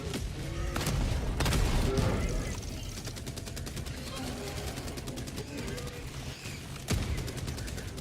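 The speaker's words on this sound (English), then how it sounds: "Motherfucker, who blew that up? Damn it. It was their artillery, I think." Enemy artillery explodes in the Helldivers video game, a loud blast in a dense burst of battle noise with rapid gunfire and booms rattling on throughout, mixed with game effects.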